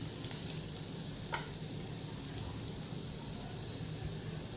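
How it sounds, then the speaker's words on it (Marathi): Pieces of boiled potato fry steadily in hot oil, a faint, even sizzle with a couple of soft clinks of a spoon, no voices. "हे बटाटे देखील आपण तेलामध्ये व्यवस्थित परतून घेणार आहोत"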